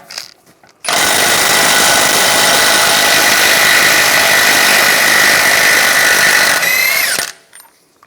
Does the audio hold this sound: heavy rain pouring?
no